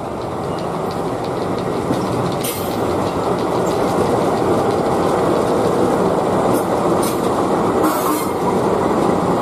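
A locomotive shunting railway cars rumbles steadily nearby with a dense mechanical roar, occasional sharp metallic clanks and hisses breaking through as the railcars move slowly.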